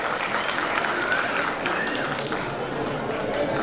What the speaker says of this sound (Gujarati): તો તેમના માટે ખૂબ જ જોરદાર તાળીઓ થઈ જાય